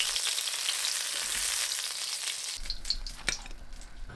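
Tofu frying in hot oil in a pan, a loud continuous sizzle with crackling spatters that thins out after a couple of seconds as it is stirred and handled with a few knocks.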